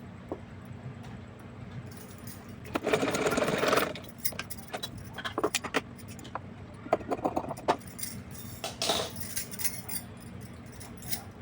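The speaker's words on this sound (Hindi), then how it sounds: "फोल्ड करने के बाद इसके ऊपर रख करके हम इसको सिलाई लगाएंगे" A sewing machine stitches cloth for a small Laddu Gopal dress in a short, quiet burst of about a second, followed by scattered faint clicks and fabric handling noises.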